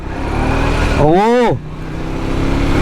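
A Triumph Speed 400 motorcycle on the move, its engine note swinging up and then back down in pitch over about half a second, set against a steady roar of road and wind noise.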